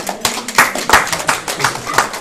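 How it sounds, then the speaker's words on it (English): Audience members clap in a church-style gathering, a loose burst of uneven hand claps with speech-like sounds mixed in, moderately loud and close. "Give me a clap for the Psalms 91"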